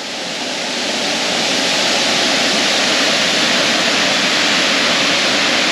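Wangi Falls waterfall in Litchfield National Park, a loud, steady, broadband roar of falling water heard close up, swelling in at the start and then holding constant with no talk.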